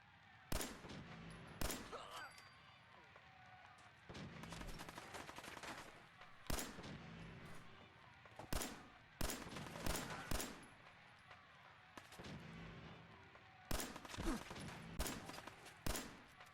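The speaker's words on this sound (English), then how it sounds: "I'm shooting right at your head, am I not?" Gunfire from a 10mm pistol in the video game Fallout 4, with rapid bursts of sharp shots coming in irregular clusters, loud and close, mixed with other in-game gunfire.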